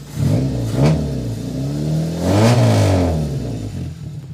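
A repaired Toyota 4AF car engine, previously losing compression, idles loudly nearby, then revs up twice in smooth rising and falling surges, with no voices.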